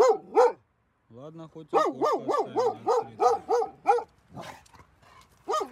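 A dog shut in a car at night barks and whines in a run of close, high yelping cries with rising and falling pitch, and brief human talk comes in near the start.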